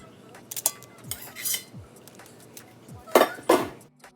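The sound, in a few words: cooked pasta shells placed into a lined baking dish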